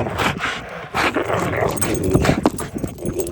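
Bishop, a normally friendly dog, growls and snarls up close while biting down, the rough growling continuous and loud, with some human voice mixed in underneath.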